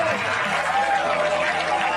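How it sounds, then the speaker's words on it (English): A golf gallery cheers after a shot, a broad crowd roar with scattered applause rising and holding steady at middle distance, with some voices mixed into the noise. "Now the gallery can cheer"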